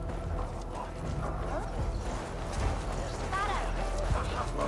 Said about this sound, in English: The horses can feel it too. Neighing and rolling.